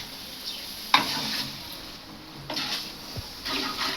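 A spoon stirs and scrapes food in a frying pan on a home stove, giving a few short, close scraping strokes with a sharp clink near the start over a faint background hiss, with no talking.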